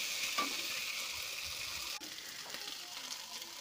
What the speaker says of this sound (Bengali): আমি জল ছাড়া এইভাবে কষিয়ে নেব, একটু কষিয়ে